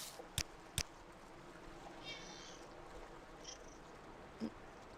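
A cat meows faintly a couple of times, short, thin cries in an otherwise quiet room, with a few soft knocks and shuffles nearby.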